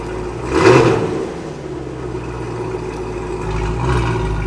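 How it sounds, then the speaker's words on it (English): A Cadillac Blackwing engine revs up in a short blip, then settles to a steady idle before rising again briefly near the end. "When I click on V mode, it changes the engine sound."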